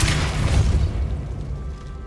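Confringo fire spell explosion in Hogwarts Legacy: a loud, close booming blast with a deep low rumble that decays over about two seconds.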